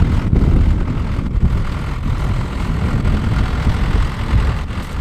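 Engine of a John Deere 2850 tractor in original condition at a ploughing match, a steady loud low rumble that continues throughout, heard close with no talking.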